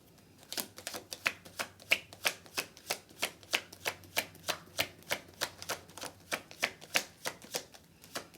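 Cards being shuffled close by, a steady run of crisp riffling snaps repeating about twice per second, soft overall with no talking.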